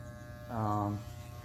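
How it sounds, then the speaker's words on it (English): A small beard trimmer used during a home haircut gives a brief, close electric buzz lasting about half a second, then cuts off. Quiet room noise surrounds it. "So you could use like a little beard trimmer"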